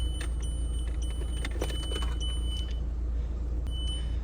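Two car keys for a 2012 Renault Megane 1.5 diesel jingle and clink in a hand inside the car, against a steady low engine and fan hum with no talking.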